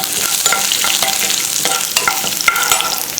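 Chopped garlic and chana dal frying in hot oil, a steady broadband sizzle with repeated sharp scraping stirs of a spoon in the pan, close and loud, no voices.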